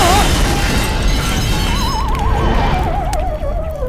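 A bomb blast in a comedy film scene: a loud, sustained roaring explosion rumble fills the whole clip, with a wavering whistle-like tone over it that fades as the blast dies away.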